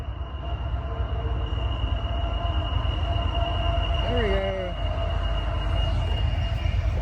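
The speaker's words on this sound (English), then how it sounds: "Hey, we got a train right there." Train passing near a disc golf course, a steady distant rumble with a sustained whistle-like tone and a brief squeal, while someone speaks briefly.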